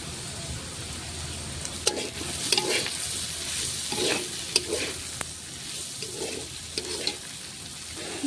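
Potatoes frying in a pan with a little turmeric give off a steady sizzle, broken by repeated scraping strokes of a spatula stirring every second or so, close and clear.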